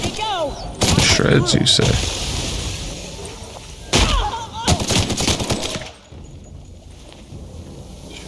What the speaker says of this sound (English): Break out my new big gun.